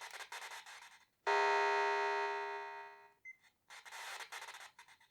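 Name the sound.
gong from 1980 Palitoy Action Man Space Knight toy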